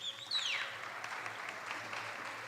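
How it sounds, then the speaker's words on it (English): Soft, diffuse audience clapping at a white coat ceremony, a steady wash of many hands heard from a distance with a brief high whistle-like sweep near the start. "thank you for that clapping"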